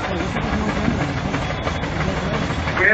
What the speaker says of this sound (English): We have the Luton's engine from West Chicago, Illinois.